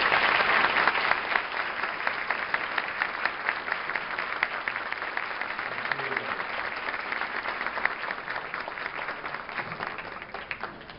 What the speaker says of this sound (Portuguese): Eu queria uma salva de palmas,